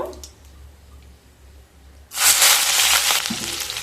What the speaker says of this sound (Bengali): তেল থেকে যখন সুন্দর একটা স্মেল বেরোতে শুরু করবে সেই সময় কেটে রাখা 1 কোয়া গোটা রসুন দিয়ে দেব